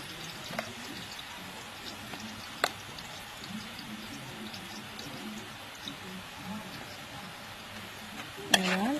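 Onion frying in a pan with chili, turmeric and salt for prawn malai curry is stirred, giving a soft continuous sizzle with scattered scrapes and clinks of a utensil, one sharper clatter near the end, and a voice speaking briefly.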